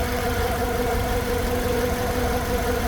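A 2009 Hyundai Tucson 2.0 petrol engine idles steadily after a top overhaul, a close, continuous mechanical drone with a faint ticking knock running through it and no speech.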